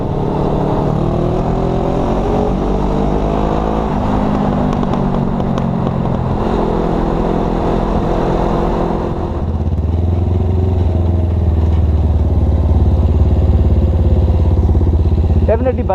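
A Suzuki GS500 cafe racer motorcycle rides along, its engine droning steadily and loudly with pitch shifts as it changes speed, then settling into a deeper, heavier rumble.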